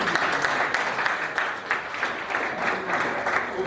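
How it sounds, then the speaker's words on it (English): An audience breaks into sustained applause, many hands clapping in a thick, even roar that stays strong from start to finish. "Please, I need from you unceasing applause."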